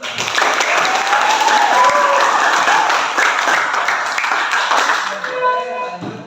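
Audience applause from a classroom during a teaching practice session: dense, sustained clapping from a group that carries on steadily for several seconds, then thins toward the end as voices begin.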